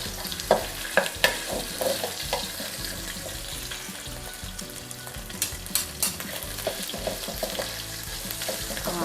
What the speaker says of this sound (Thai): เราจะเอากะปิกับกระเทียมนะคะ ลงไปผัดให้หอมก่อนเลย